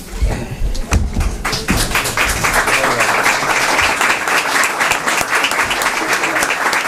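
An audience applauds at the close of a session on contemporary art and aesthetics, with steady, dense clapping at close range and a few heavier thumps early on, continuing without a break.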